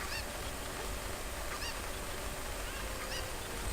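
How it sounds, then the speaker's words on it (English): Cuccos, the chickens of Zelda: Ocarina of Time, give short honking clucks at intervals over a steady game background hum, loud and close with no talking. "grab all these little cuckoos"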